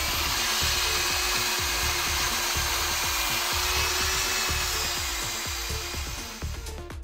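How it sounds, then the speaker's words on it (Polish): A power drill fitted with a wire brush scrubs a wheel hub on a Citroën Xsara Picasso during a brake pad and disc change, a close, continuous whirring grind with rhythmic scraping pulses that winds down at the end. "więc tylko troszeczkę ją tam przelecę wiertareczką, szczotką,"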